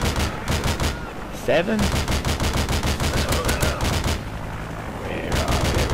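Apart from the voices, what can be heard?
gunfire in the video game Modern Warfare 2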